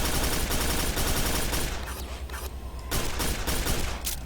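Rapid, loud gunfire bursts from a weapon in the Quake 4 video game aimed at a monster, dense continuous shooting that briefly thins out before resuming at full intensity.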